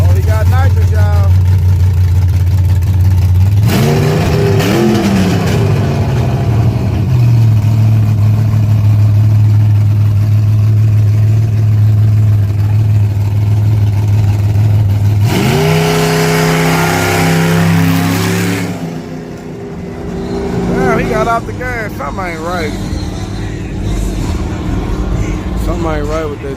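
Drag racing car running on nitrous at Yello Belly Drag Strip, a loud engine holding a steady low drone, with two surging revving passes, under an announcer's voice over the PA.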